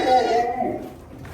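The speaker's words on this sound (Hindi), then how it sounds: "अब बकरियों को नीचे लेके आएंगे" Goats bleating on a goat farm during Eid, a short wavering call close by with shouting and voices of people around it.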